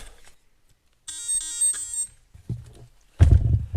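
An Axial UTB18 Capra 4WS RC truck powers up with a short electronic melody of tones, followed by a brief whir and a louder burst of motor or handling noise.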